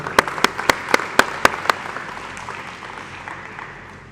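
Audience applause at a school Interact installation ceremony, a handful of sharp loud claps in a quick rhythm that fade into a softer patter and die away.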